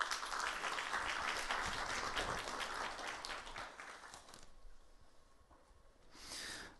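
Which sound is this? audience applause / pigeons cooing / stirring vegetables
audience applause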